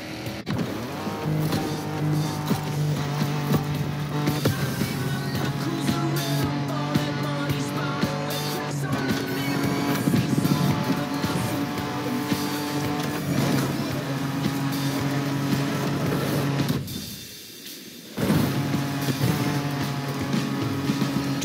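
Car driving off-road across open Hawaiian island terrain in The Crew Motorfest, a steady engine drone with sustained tonal layers. It runs continuously before briefly dropping out and then resuming.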